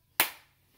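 One crisp, close hand clap taking the place of a letter while singing the children's Bingo song, sounding alone with a quick decay and no voices over it.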